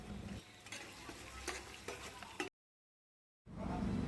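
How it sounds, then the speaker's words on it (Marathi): Mutton fat frying on reddened onions for a Kolhapuri mutton dish, a faint crackling sizzle with light stirring taps, cutting to silence for about a second before the sizzle returns louder. "कांदा लालसर झाल्यावर त्याच्यावर मटणाची चरबी टाकली गेली"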